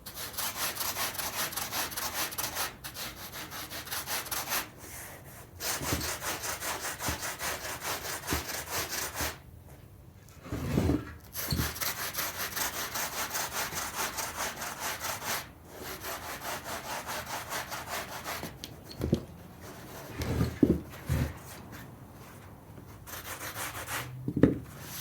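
Hand sanding of cushion foam with a manual tool, a steady close scraping rasp in long continuous strokes with short pauses between passes, no talking.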